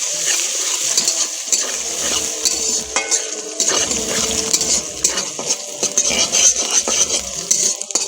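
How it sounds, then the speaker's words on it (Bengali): Chopped onions stirred and frying in a pan for a spinach and paneer curry, with a steady sizzle under repeated scraping and clinking of a spoon against the pan, close and fairly loud, with no voices. "পেঁয়াজটা দিয়ে আমরা এবার নেড়ে নেব।"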